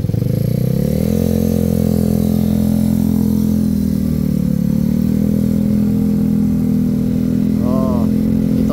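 An impounded motorcycle's engine runs steadily and close, a continuous loud drone that shifts pitch slightly, with a brief squeak near the end.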